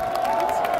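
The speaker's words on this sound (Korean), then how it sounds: "여러분 다시 한번 큰 박수 보내주시기 바랍니다" A large crowd at a Lotus Lantern Parade finale concert in Seoul cheers and claps together, a dense continuous wash of applause with scattered shouts.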